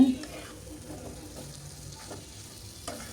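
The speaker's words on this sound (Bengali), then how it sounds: "দুইটা ডিম দিয়ে ভালোভাবে নাড়াচাড়া করে" Two eggs being stirred into vegetables frying in a pan, producing a soft, steady sizzle with faint scraping and stirring clicks, fairly quiet and close.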